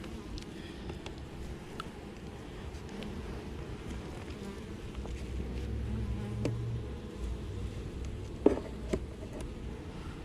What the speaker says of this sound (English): Some bees on the top cover.